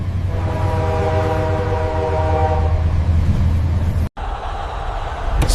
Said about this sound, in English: I heard a train horn,